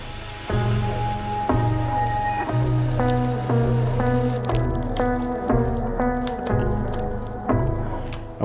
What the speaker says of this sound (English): Let's mix this shawarma meat.